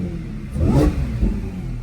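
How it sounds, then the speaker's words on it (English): An Audi S4 car engine revs up briefly and then settles back, heard nearby with a steady mechanical hum underneath. "Engine sounds healthy."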